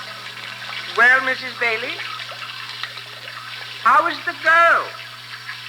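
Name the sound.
water running from a tap, then turned off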